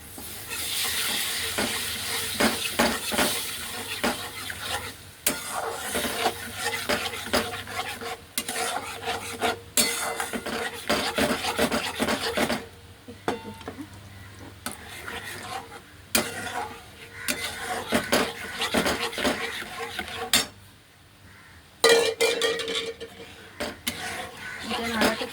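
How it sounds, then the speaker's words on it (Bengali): A spoon scrapes and stirs a white sauce of flour and milk in a pan, a steady rasping swirl with a soft sizzle beneath. Someone talks over it, and the stirring briefly pauses a couple of times. "এটা নাড়াতে থাকতে হবে, না তো এটা জমে যাবে।"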